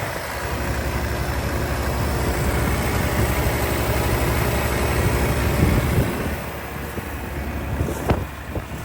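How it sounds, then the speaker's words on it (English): An old Ford truck engine idling steadily, a low continuous rumble with wind noise over the microphone, fading slightly near the end with a brief knock. "We'll let her sit here and run for a sec. Good old truck."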